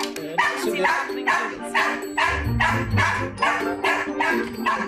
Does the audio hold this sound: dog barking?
yes